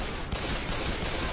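Rapid enemy gunfire in the zombie shooter Left 4 Dead 2, a brief dense burst of overlapping shots, loud and continuous with no talking.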